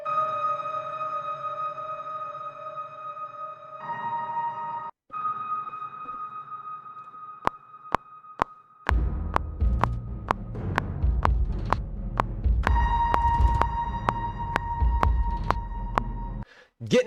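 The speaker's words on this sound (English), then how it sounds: "Why don't we just add a ton of reverb?" Synthesized orchestral music drenched in heavy reverb, sustained tones giving way to a repeated rhythmic pulse over a deep low rumble, loud and continuous.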